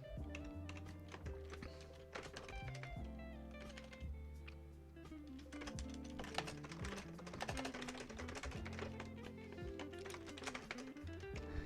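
Steady, rapid typing on a computer keyboard, dense clusters of clicky keystrokes with brief pauses, close and fairly quiet, heard alone with faint background tones.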